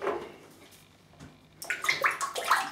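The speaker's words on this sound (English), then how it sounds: "let's wet the brush" Water runs onto a synthetic shaving brush after a quiet start, rising into a steady, close splashing wash for the last second or so.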